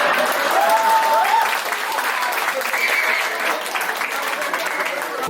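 An audience at a Nepalese cultural and musical evening in Oslo claps steadily, a broad, sustained round of applause that eases slightly toward the end, with a voice speaking over it.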